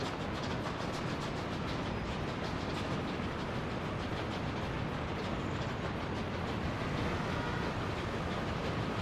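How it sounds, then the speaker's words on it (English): A train runs in the video game Workers and Resources with a steady, loud rolling rumble and continuous rhythmic clickety-clack of wheels on rail joints, unbroken for the full stretch. "Now that's a good looking train."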